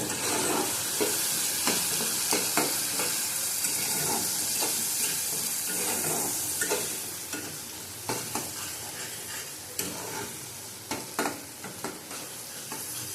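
Spice masala with turmeric and Kashmiri chili powder being stirred and fried in oil for fish roe fritters, a constant close sizzle punctuated by repeated sharp scrapes of a spoon against the pan, with no speech.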